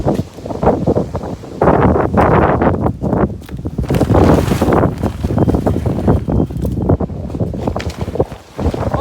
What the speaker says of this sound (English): The wind is blowing away the tarp.